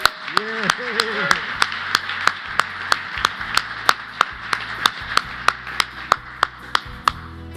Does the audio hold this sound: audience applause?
yes